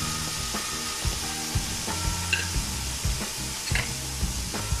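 Tomatoes sizzle and fry in a hot pan, a steady bright hiss with soft clicks and occasional spoon taps against the pan, close and continuous.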